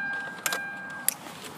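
Car keys for a 2013 Kia Rio jangling twice in quick, close metallic bursts over a faint steady tone inside the car.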